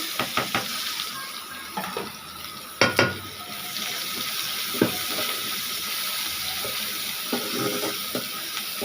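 Sliced onions fry in hot oil in a pan after pabda fish has been fried, a steady close sizzle with scattered pops and a few sharp clatters of a utensil.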